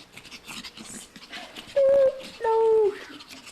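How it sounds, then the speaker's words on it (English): A three-month-old puppy lets out two high, wavering whines close by, each under a second long, between quick breaths, while people talk around it. "Come on, doggy."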